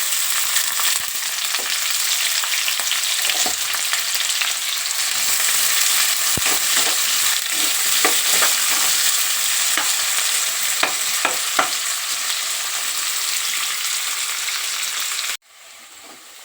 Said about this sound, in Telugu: ఉల్లిగడ్డలు ఫ్రై చేసుకుని పక్కన పెట్టుకుందాం